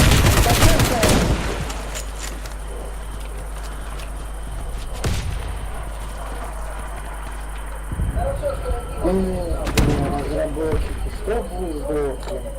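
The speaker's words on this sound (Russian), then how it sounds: "Скорострелом он стреляет." Rapid automatic gunfire from the shooter game Warface, a dense burst of shots early on followed by scattered, quieter reports, with voices talking over it.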